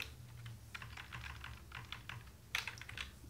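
HTML code for a web form is typed on a computer keyboard in quiet, rapid runs of key clicks, with a few sharper keystrokes near the end.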